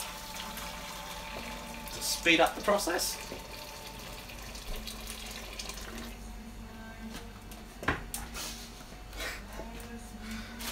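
Hot boiling water pours into a pot on a kitchen stove as vegetables cook, a splashing, running-water wash that steadies and fades while a person talks over it.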